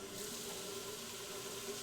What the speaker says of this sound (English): Slowly start bringing in some water